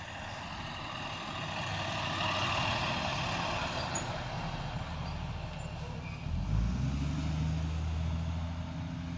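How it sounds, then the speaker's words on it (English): A bus passes along a street on an autumn walk outdoors, its engine rumble building steadily over several seconds and peaking near the end, with wind and traffic noise underneath. "Let me wait for this bus to pass."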